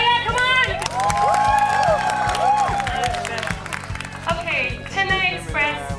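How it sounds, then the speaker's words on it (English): At a press conference for the film Chennai Express, a loud, close crowd claps and cheers with whoops and excited shouting voices running throughout, a continuous roar of applause layered with overlapping calls. "they need to hear a much bigger round of applause"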